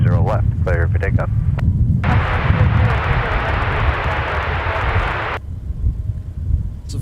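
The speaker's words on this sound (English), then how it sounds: "runway 30 left, clear for takeoff." A jet airliner roars down runway 30 left at Minneapolis–St. Paul airport on takeoff, a loud broad rumble that swells after a brief radio exchange and cuts off abruptly, with engine noise lingering faintly behind.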